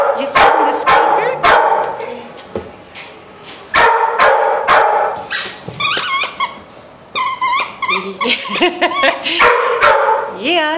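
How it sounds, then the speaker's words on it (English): A young shelter pup chewing a toy mouse with a squeaker, giving repeated sharp squeaks in quick bursts alongside yips and whimpers, close, while someone talks cheerfully over it. "Yeah, you found the squeaker?"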